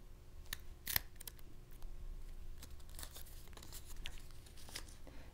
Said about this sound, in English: paper punch to cut out my image.